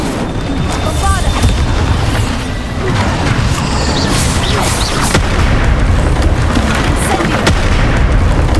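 A Bombarda explosion spell in Hogwarts Legacy, with loud booming blasts and crashing debris over a continuous rumbling battle din, sharp impacts recurring throughout.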